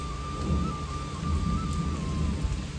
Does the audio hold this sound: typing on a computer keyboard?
no